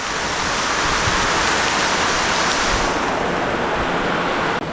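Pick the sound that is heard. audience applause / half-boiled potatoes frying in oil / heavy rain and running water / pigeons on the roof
heavy rain and running water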